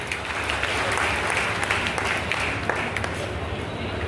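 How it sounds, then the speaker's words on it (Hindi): Crowd applause at a large youth dialogue event in Sonpur, a loud continuous patter of many hands clapping that holds steady, then thins slightly toward the end. "आप लोग ताली बजाइए"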